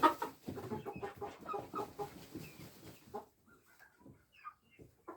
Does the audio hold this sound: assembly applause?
no